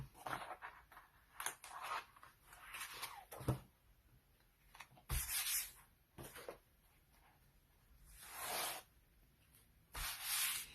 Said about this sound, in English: when you're chalking on wood, to remember to wax the surface first. Rub it in, rub it off.